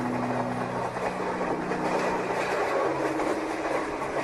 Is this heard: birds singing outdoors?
no